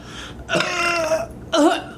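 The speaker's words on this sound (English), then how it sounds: "She breaks up her review with some burps." A girl burps during a food review of tacos: a short low belch, then a longer drawn-out burp, then a final brief one, all close and loud.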